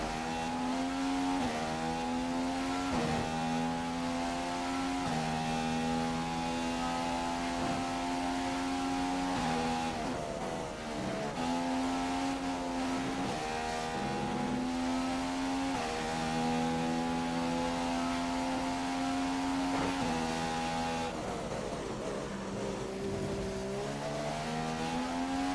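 McLaren Honda Formula 1 car engine in the racing game F1 2015 on Xbox One, a loud high-pitched whine that climbs through the revs, drops sharply at each gear change and climbs again, running steadily throughout.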